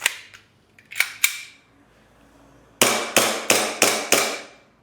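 Airsoft Glock 18C pistol with a selector switch: a few separate semi-auto shots sound first, then after a pause a quick burst of about six sharp, loud, close cracks fired in full auto.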